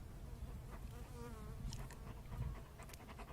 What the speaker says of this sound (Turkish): Arı.